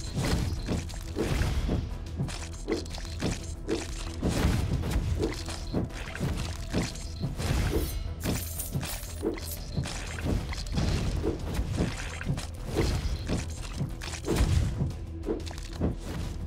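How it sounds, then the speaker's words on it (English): Explosions in the action game Death Must Die come as repeated heavy thuds, crashes and shattering bursts with whooshes between them, dense and loud over a steady backdrop of game sound. "Whenever we get the explosions, they are really impactful"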